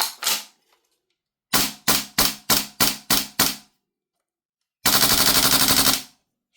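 A Tokyo Marui AKX gas airsoft rifle fires full auto: a short opening burst, then six quick clipped bursts in a row, and finally one long sustained rattling burst, loud and close with no talk.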